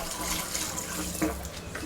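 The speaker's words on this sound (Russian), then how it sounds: "поэтому вода стекает, ну, примерно туда, в цветничок" Water poured out at a rural old house, splashing and trickling as it drains toward a flowerbed, a steady close wash without talk.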